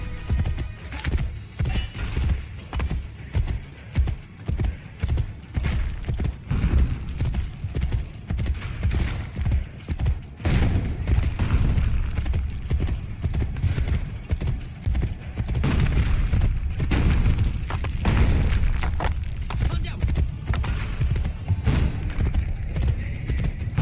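Horse hooves clip-clop steadily at a brisk pace in the video game Assassin's Creed Brotherhood, with occasional whinnies and muffled booms in the background.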